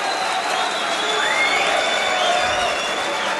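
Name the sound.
German darts crowd cheering and applauding a won leg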